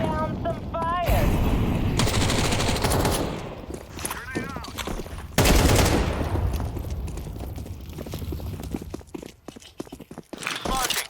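Rapid bursts of gunfire ring out in a Counter-Strike match on the Inferno map, loud sharp cracks in clusters with short gaps, mixed with game effects and a player's voice talking over them.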